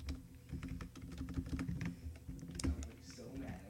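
Fingers tapping a computer keyboard while an Android game listener is coded, a quick uneven patter of close, crisp keystrokes with a few louder clacks and a faint voice underneath.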